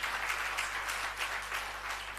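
A church congregation clapping together during a Telugu prayer and fasting sermon, a steady, continuous patter of many hands at moderate loudness, sustained without pause and with no talk over it.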